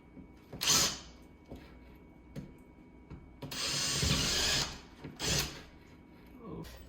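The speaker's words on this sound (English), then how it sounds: "So I'm making my holes for the lag bolt right now, right into the stud." A power drill bores holes into a wooden wall stud for lag bolts, a few short bursts and one longer sustained whir, fairly close, with quiet gaps between runs.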